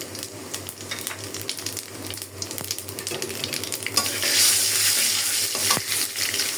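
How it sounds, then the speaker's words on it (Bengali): Taro leaves hit hot oil with whole cumin and black cumin seeds, giving a steady close sizzle and crackle that swells louder in the last few seconds, with no talking. "আমি এখন কচু শাকটা তেলে দিয়ে দেবো আমি এখন দিয়ে দিলাম কয়টা গোটা জিরা আর কালো জিরা"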